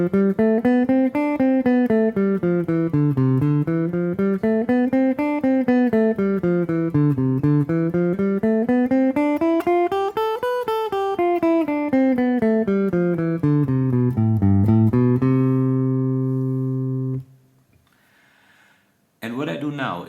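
Plucked guitar notes climb and fall in a repeating scale exercise at a steady pace, then settle on a held low note before a brief pause.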